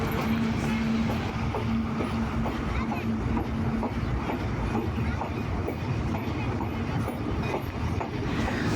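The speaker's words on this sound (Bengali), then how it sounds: "এই ট্রেনটি চিলাহাটি এক্সপ্রেস নাম এবং ঢাকা এবং চিলাহাটির মধ্যে চলাচলকারী একটি আন্তনগর ট্রেন" An intercity express train running on rails between Dhaka and Chilahati, heard from on board as a loud continuous rumble with rhythmic wheel clatter and a faint squeal, with some voices underneath.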